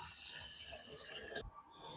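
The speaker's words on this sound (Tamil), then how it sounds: "இப்ப வந்து இதை நாங்கள் 2-3 தண்ணியில வடிவா கழுவி எடுக்க போறோம்." Half a kilo of white raw rice is being washed in water: a steady splashing and running-water hiss that stops abruptly, then resumes more softly, with no talk.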